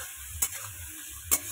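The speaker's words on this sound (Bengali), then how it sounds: "তো এটাকে ভাজা করে নিই ভালো করে।" Food fries in a pan at home, a faint steady sizzle under two sharp stirring clinks of a utensil against the pan, no voices.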